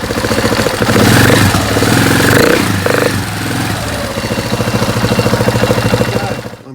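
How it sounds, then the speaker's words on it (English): A KTM 690 Enduro R motorcycle engine idles steadily up close, a loud, even mechanical thrum with light clatter and no voices. "That is the bike running."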